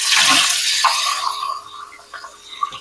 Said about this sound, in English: rinse my cup out so I can get some hot water out of the dispenser